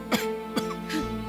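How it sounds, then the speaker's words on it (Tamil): A man coughs in a Tamil television serial scene, a few short harsh bursts spaced apart against a quiet room with a faint steady background hum. "இந்த மனுஷன் இப்படி இருமல்ல அவஸ்தைப்பட்டு இருக்காருன்னு"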